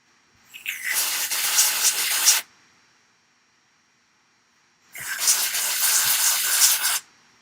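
Two long hissing bursts from an aerosol spray can cleaning parts of an X-ray X12 RC car, each lasting about two seconds, separated by a quiet pause, loud and close.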